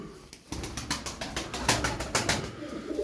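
Tumbler pigeons clap their wings in flight, a rapid series of sharp flapping bursts, close and distinct, repeating in an irregular rhythm over a few seconds.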